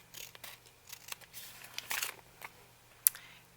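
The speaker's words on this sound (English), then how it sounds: "I'm just going to cut a sliver off the end here." Scissors snip a thin sliver off the end of craft material for a shabby rose mini project: a few soft, close cuts and rustles, then one sharp snip near the end, with no talking.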